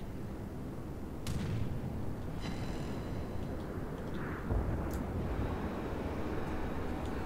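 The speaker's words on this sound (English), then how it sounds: "Anti-aircraft gun crews are on full alert." Anti-aircraft guns firing at attacking planes in the World of Warships video game, a dense rumbling barrage of distant booms and cracks over a constant roar of engines and sea, with no talking.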